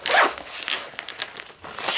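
Packaging for a fleece-lined hoodie and yo-yo bag is unzipped close by, giving a series of quick, raspy zipper pulls with short pauses between them.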